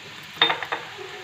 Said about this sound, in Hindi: तो इसके अंदर मैं ज़ीरा डाल दूँगी,